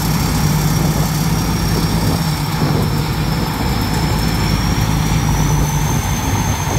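A rice combine harvester with a JO84 engine runs in a muddy paddy field, giving a loud, steady, unbroken mechanical roar throughout with no voices.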